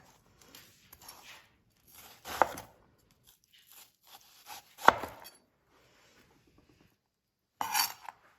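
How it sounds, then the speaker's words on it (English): A knife dicing an onion on a cutting board gives a few sparse chopping knocks and scraping rubs, fairly quiet, with pauses between strokes and no talk. "as I make that cut and lift away, the onion falls apart into dices"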